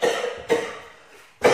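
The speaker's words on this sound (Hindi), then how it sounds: "खांसी आया है, ऐसे नॉर्मली जो होता है" Three sharp coughs from a person nearby: two in quick succession, then a pause and a third, loud against a quiet room.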